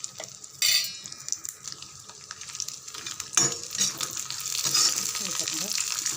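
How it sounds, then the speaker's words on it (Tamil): Raisins and other ingredients for a corn flakes snack fry in a pan, giving a soft sizzle as they brown. A spoon stirs and scrapes against the pan now and then. "நல்லா கொஞ்சம் செவக்க வதங்கட்டும்."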